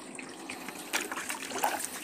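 Water runs from a garden hose into a pig pen, a faint, steady trickling and splashing with no voices.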